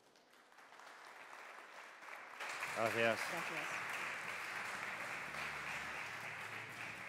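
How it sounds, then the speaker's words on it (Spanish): Audience applause for Mikel and Onitxe fills the room as a steady wash of clapping, with a voice speaking over it in the middle. "les pido un fuerte aplauso para él y para Onitxe"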